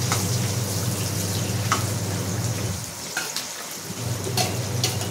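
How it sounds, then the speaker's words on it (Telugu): Onion and curry leaves fry in spiced oil for a millmaker curry, giving a continuous close crackling sizzle with a few sharper pops and a brief quieter dip midway. "ఆయిల్లో మసాలా వేసేసుకున్న తర్వాత ఉల్లిగడ్డ కూడా వేసేసుకున్నాం. అలాగే కరివేపాకు వేసేసుకున్నాం."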